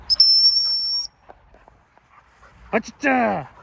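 A dog whistle gives a sustained, shrill, pure tone for about a second, followed by quiet and then a dog's short whimpers and yips up close, with someone talking around it.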